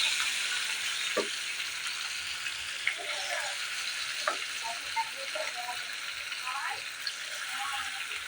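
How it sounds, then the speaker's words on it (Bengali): Prawns frying in oil with a dried red chilli and nigella seeds, giving a steady hiss with scattered light clicks and spatula taps, and quiet speech at a distance in the background. "চিংড়ি মাছগুলোকে ভালো করে নেড়ে চেড়ে আমি একটু ভেজে নেব"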